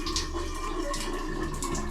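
Water spraying from the shower of a newly installed Wassernison water heater in a home bathroom: a steady, hissing rush of water that runs continuously and fairly quietly, with no talk over it.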